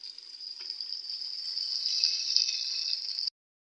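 Broth or water for kabuli pulao is poured into rice from a glass, making a steady hissing splash that builds slightly for about three seconds and then stops abruptly.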